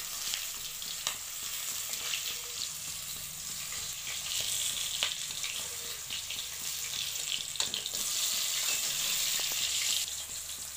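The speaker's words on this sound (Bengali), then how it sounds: "এই মাছটা ফ্রাই হয়ে যাওয়ার পর আমি আপনার দেখাচ্ছি, একদম হালকা ফ্রাই করবো, বেশি করব না।" Pieces of katla fish lightly frying in hot oil, a dense continuous sizzle and crackle up close, with occasional pops and spatters throughout.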